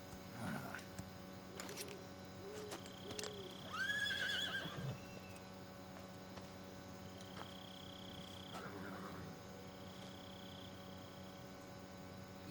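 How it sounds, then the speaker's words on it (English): A horse neighs in a jungle setting in the video game Metal Gear Solid 3: Snake Eater, with a rising whinny mid-clip over a steady ambient game soundscape and faint background tones. "And a horse in the middle of the jungle."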